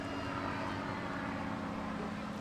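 A display aircraft turning overhead at the Bournemouth Air Festival produces a faint, steady distant engine drone with a low propeller hum throughout.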